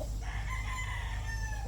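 A young roundhead-Gilmore gamecock crows once nearby, a drawn-out strained call over a low steady background hum.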